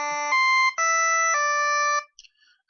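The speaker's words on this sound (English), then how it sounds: "This is a fusion between a triangle and a square" A synthesizer waveform blending triangle and square shapes plays a few sustained, buzzy tones with rich harmonics, stepping through several pitches in a close, clean line before stopping, with no voices.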